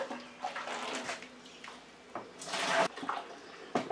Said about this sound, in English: Let me add a couple more dips of water.